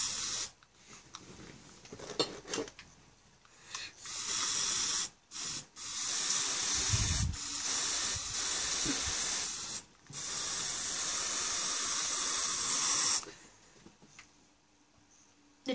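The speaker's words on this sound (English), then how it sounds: "That spraying sound is just them spraying smoke." A smoke machine sprays in several hissing bursts of varying length, some long and steady, separated by short quiet gaps, fairly close.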